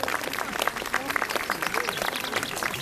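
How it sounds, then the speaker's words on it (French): Audience at a falconry show applauds a buzzard, a burst of clapping under a speaking voice that continues over it, lively and close. "Je vous demande d'applaudir notre ami Diego"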